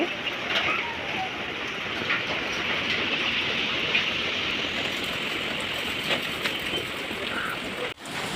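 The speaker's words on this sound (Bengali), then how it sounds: "কি হারে হাওয়া দিচ্ছে দেখো" A steady, loud roar of storm wind and rain fills the whole stretch with constant broadband rushing, sudden gusty surges, and a brief dropout near the end.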